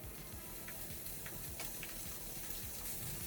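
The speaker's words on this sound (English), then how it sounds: "now we are going to put them in the frying pan and cook them until they get nice" Cubes of Spam fry in a frying pan, producing a faint, steady sizzle with a few small pops scattered through it.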